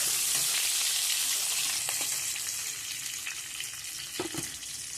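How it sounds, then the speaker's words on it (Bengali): Ginger, green chilli and mixed vegetables frying in a home kitchen pan, a steady hiss of sizzling oil broken by a few brief clinks and stirring scrapes. "সবজিগুলো একটু ভেজে নেব, তাহলে খেতে ভালো লাগে"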